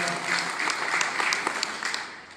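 Audience clapping heartily at a Rajasthani literature award ceremony, a steady dense round of applause filling the hall.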